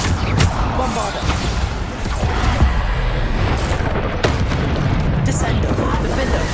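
Bombarda spell explosions in Hogwarts Legacy combat: a loud, dense roar of blasts with sharper booming bursts several times over the course of the action.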